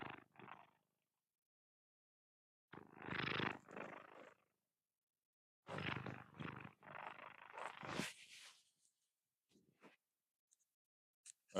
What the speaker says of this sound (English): we got a couple of purrs in there